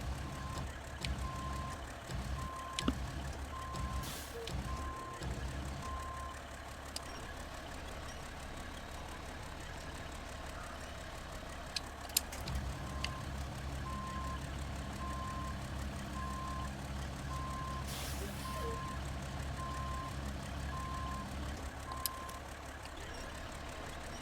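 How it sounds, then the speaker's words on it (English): A truck idles with a steady low engine rumble while a reversing beeper sounds in a regular on-off pattern over it, with brief clanks and knocks scattered throughout. "The way this truck sounds at idle"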